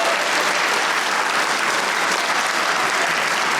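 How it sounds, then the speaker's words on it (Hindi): Studio audience applause on a talk show, a dense, steady wash of many hands clapping together, loud and sustained throughout with no one speaking over it. "सब ऑडियंस में बैठे, इनके लिए तालियां होनी चाहिए"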